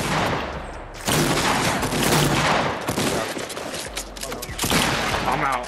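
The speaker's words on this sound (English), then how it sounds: "He has a shotgun." Shotgun blasts in Fortnite Battle Royale, a video game: several loud, close booming shots in bursts over dense game noise.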